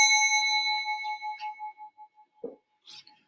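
A single bell rung in an online live math class to signal students to answer, one bright ding that rings out and slowly decays, with faint tapping near the end.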